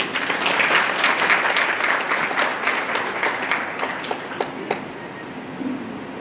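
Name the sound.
audience applause after conference opening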